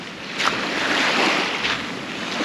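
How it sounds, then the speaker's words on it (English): Ocean surf of the North Atlantic on the Maine coast, a steady broadband wash with swells rising and falling, mixed with wind buffeting the microphone. "The ocean."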